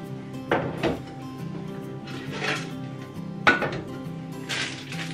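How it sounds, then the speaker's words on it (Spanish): A coffee maker being set down and shifted on a pantry shelf, giving two short knocks and clatters followed by quieter rustling and another thud, close and moderately loud with no talking. "Aquí va la cafetera."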